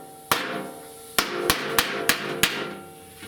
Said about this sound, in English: before I cool it down, I wanted to hammer and dolly this.